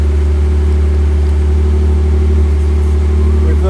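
A Jaguar E-Type's engine idles close by with a steady, loud, deep drone on choke, holding even throughout before a slight rise at the end as the car begins to move off.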